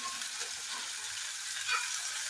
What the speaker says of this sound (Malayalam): നമുക്കിതിന് വേവാൻ ആവശ്യത്തിന് ഉപ്പുനീരും കൂടെ ചേർത്ത് ഒന്ന് ഇളക്കി വയ്ക്കാം